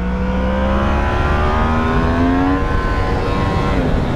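A 2016 Yamaha MT-10 motorcycle accelerating hard through successive gear changes, engine note climbing in pitch then dropping at each shift, loud and close with a continuous rushing wind roar underneath.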